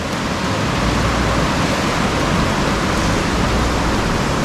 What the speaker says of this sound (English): that was just rain on the roof, pretty loud